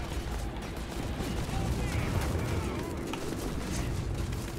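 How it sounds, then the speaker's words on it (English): Video game gunfire crackles in a distant, continuous fusillade under a dense, noisy battle ambience, with no clear individual shots standing out. "Oh, we are under fire."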